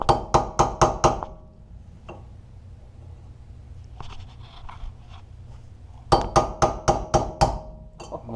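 Hammer blows knock a wheel bearing hub bolt loose on a Honda Accord rear wheel bearing job, in a quick burst of five sharp metallic taps, a long pause with faint clinks, then another rapid run of about six strikes.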